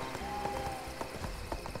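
Donkey hooves clip-clop in a steady, moderately close rhythm while riding in the online game ArcheAge, over a continuous musical and ambient game background.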